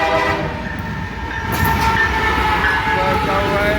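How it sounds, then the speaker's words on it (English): A container freight train rumbles past close by, its horn sounding in long tones over the steady roll and clatter of the cars. "a container train comes out of Atlanta and goes to Charlotte."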